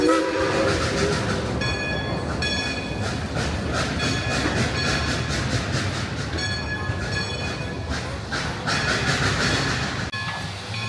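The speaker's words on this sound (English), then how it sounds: "Sounds like the old Dollywood Express is struggling just a little bit to get her moving." Dollywood Express steam train at Dollywood during Smoky Mountain Christmas, labouring to get moving: steady loud chuffing and rail clatter with repeated whistle blasts, no talk.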